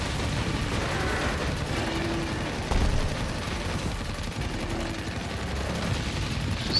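Rapid, sustained automatic gunfire from a chain gun in the video game DOOM: The Dark Ages, a dense continuous rattle with heavy low booms layered over busy combat noise.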